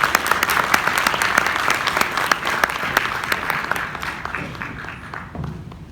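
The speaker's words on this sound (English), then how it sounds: "So can we have a huge round of applause for our first presenter" At a TEDx talk, an audience applauds the first presenter with loud, dense clapping full of sharp individual claps, easing off slightly toward the end.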